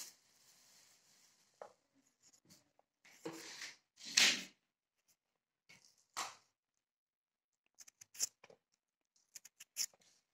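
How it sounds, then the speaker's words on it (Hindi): Sharp knife cuts through peeled potatoes, onions and spinach lengthwise on a board, heard as scattered short chops and taps with quiet gaps between them, close and fairly soft. "अभी मैं कटिंग करके लंबाई में कटिंग कर रही हूँ"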